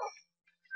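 Dog whimpering in the video game Minecraft, a few brief high yips and whines spread across a short moment, fairly faint and with nothing else around them.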